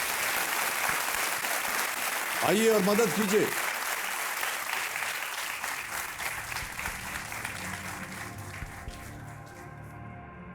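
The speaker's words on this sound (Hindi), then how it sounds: "तालियों के साथ आपका स्वागत करते हैं" A studio audience on a televised quiz show applauds to welcome a contestant's companion, a steady wash of clapping under a host's voice, with a brief tonal musical sting early on.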